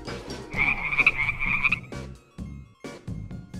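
A frog croaks in a series of raspy calls, loud and close, with a sustained trill in the middle followed by a few short separate croaks.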